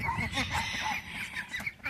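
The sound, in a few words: white leghorn chickens clucking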